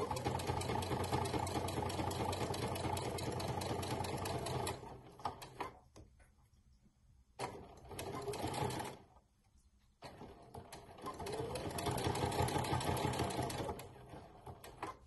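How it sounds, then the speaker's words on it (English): A sewing machine fitted with a binder foot stitches a fabric binding strip, giving a close, steady mechanical whir that stops twice briefly before resuming at full speed. "Place the needle down and slowly start sewing."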